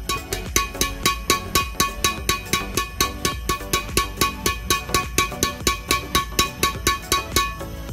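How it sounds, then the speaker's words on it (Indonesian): A red Apacs Commander 20 badminton racket strung with Pro S DG66 at 28 lbs is struck repeatedly at close range, producing a rapid, even series of crisp, ringing pings over a steady busy background. "Yuk kita dengerin hitting sound dari raket ini."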